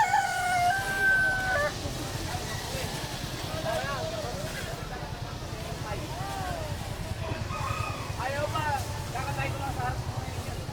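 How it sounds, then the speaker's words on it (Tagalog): Native bantam chickens at a busy pet market, with a rooster's crow and several clucks and squawks over steady motor hum and the chatter of people talking nearby. "Yan, mga native na manok,"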